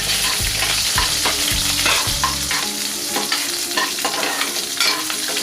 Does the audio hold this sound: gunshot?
no